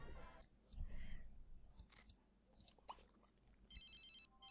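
A phone in The Sims 2 video game rings with an electronic warble near the end, after scattered game clicks, all faint, with no talking.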